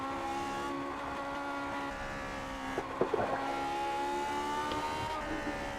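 A race car engine in a racing video game winds down under braking, then climbs again as the power comes back on. The tone is steady and whining, with a few brief clicks partway through.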